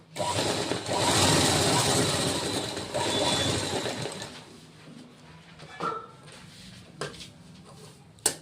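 A sewing machine stitches tucks on the front of a princess cut blouse, running in a dense, rapid whir for about four seconds before falling to quieter handling sounds and a few faint clicks.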